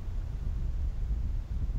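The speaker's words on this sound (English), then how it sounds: "You know it's a little windy." Wind gusting across an open golf course during a tournament round, a steady low rumble buffeting the microphone with no pauses, loud and close, with no talk over it.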